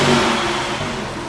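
NASCAR stock cars roaring through turns 3 and 4 at Atlanta, a steady loud engine drone with no break over a short stretch.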